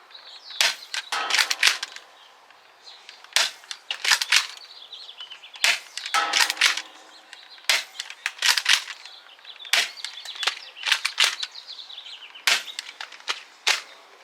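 A Dart Zone Pro MK-2 toy blaster fired repeatedly, giving sharp snapping pops in quick clusters spaced out over several seconds, close and loud, with no talking.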